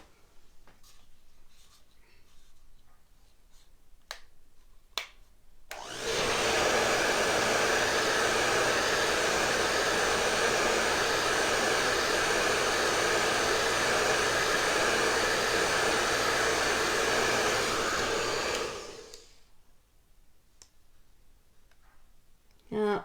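After a few quiet clicks and handling sounds, a hair dryer roars on close and loud, blowing steadily for about thirteen seconds to dry shimmer paste on a Christmas tree craft, then cuts off.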